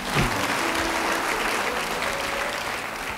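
A church congregation gives a round of applause, dense and even clapping at moderate distance that holds steady throughout and tapers slightly at the end, with a faint tone under it.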